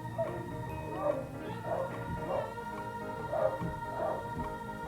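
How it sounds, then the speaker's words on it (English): Puppy barks at feeding time: a run of about six short, moderately loud barks in a steady rhythm, heard from a room below the dining area over a low background hum. "If you hear barking in the background"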